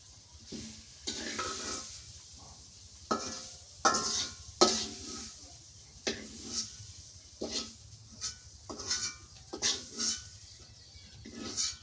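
A spatula stirs and scrapes a radish stir-fry in a pan over a soft sizzle. The utensil clatters against the metal in irregular bursts, close and fairly loud, with no talk.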